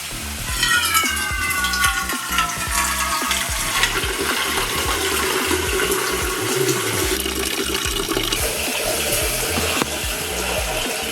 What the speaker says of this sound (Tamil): சாப்பாடு உள்ள வைக்கிறதுக்கு தண்ணி பிடிச்சி வச்சுப்போம்.